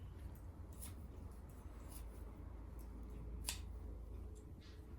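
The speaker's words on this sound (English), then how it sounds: "You can also cut a few pea shoots in here." Scissors snipping fresh pea shoots in a kitchen, a few quick crisp cuts spaced apart over a low steady background hum, fairly close but quiet.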